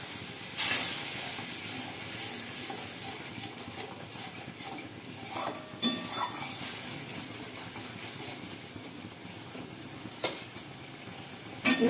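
Water poured into a hot pan of turmeric, hissing and sizzling softly and steadily at close range, with a few sharper spits and bursts standing out against the continuous fizz.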